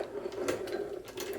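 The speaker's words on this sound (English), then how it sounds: "And keep turning, and the needle bar rises, forming a loop in the thread, and then the shuttle comes through." A Singer 29K171 boot-patching sewing machine is cranked by hand, its needle bar and shuttle giving off a quiet, close run of small mechanical clicks and ticks, with no voice.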